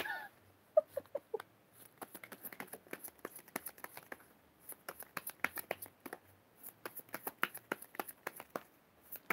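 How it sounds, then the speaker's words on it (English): Tarot cards shuffled by hand, a quiet stream of rapid crisp riffles and soft slaps in uneven bursts, close and intimate, with no talking. "I love how I shuffle too"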